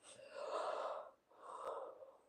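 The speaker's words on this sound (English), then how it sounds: "Don't mind me yawning." A single drawn-out yawn with breathy exhale, followed after a brief pause by a second shorter yawning breath, close and fairly loud with no talk over it.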